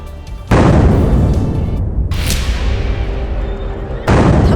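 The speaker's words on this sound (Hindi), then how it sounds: "सिलेंडर से हुए धमाके इतने तेज थे कि आसपास की इमारतों की खिड़कियों के शीशे तक फूट गए।" Gas cylinders exploding in a fire at a gas refilling centre: loud, sustained booming blasts with a brief dip, then another powerful burst near the end.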